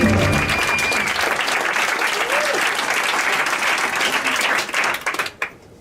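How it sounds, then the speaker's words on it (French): A large comedy club audience claps steadily and loudly for several seconds, with a few cheers mixed in, before the applause quickly dies away. "Pour Serge Mathurin, faites du bruit"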